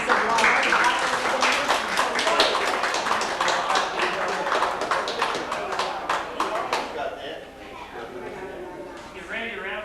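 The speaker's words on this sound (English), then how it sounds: "Give Randy a round of applause there" Reunion crowd applauding a guest for a long stretch, dense clapping that fades out near the end, with some voices mixed in.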